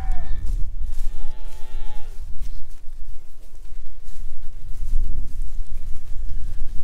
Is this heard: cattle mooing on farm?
yes